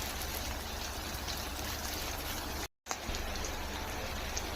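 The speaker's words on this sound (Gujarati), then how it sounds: "આને આપણે થોડીક માટે સાતળવા દઈશું." Ingredients for a cashew curry sizzle steadily in a pan, a constant close hiss and crackle with a brief break partway through, no talking.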